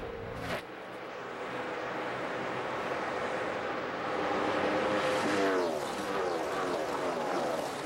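NASCAR stock cars racing at Kansas Speedway in the 2012 Hollywood Casino 400, a steady roar of engines from a distance swelling as cars pass, with a rising then falling pitch sweep near the end.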